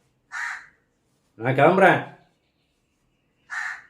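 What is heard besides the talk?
crow cawing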